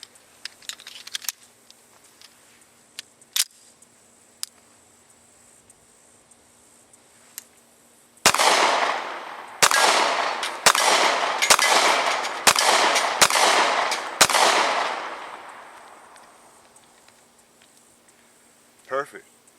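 Gunshots from an ATI FX 45 Titan 1911 pistol firing Federal full metal jacket ammunition, about eight sharp loud reports in an uneven string with reverberant tails, preceded by faint clicks and quiet handling.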